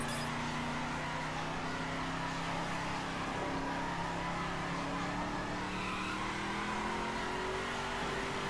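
A 2015 Ford Mustang GT Fastback drifts in The Crew racing game. A continuous engine roar climbs in pitch as it revs and accelerates, with a faint tire squeal, steady and loud throughout.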